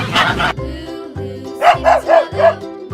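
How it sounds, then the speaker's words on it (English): A dog barks close and loud, one burst first and then a quick run of four or five sharp barks with short gaps between them. "Dog."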